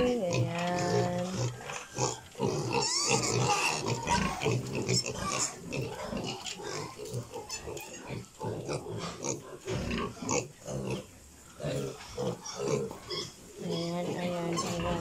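Piglets on a pig farm, about to be moved to a fattening pen, oink and grunt steadily and fairly close, with a person's voice speaking at times over the animals.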